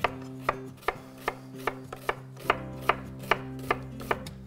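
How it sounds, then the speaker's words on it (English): A knife finely slices red onion on a board, a steady run of about ten crisp, close chopping strikes at an even rhythm with no voices. "We'll fine slice that red onion as well,"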